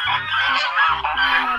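A duck from a children's ABC phonics song gives a short run of loud, nasal, honking quacks, close and continuous, with no talking over it.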